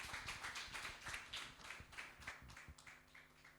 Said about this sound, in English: Please, can we give a round of applause to our panelists?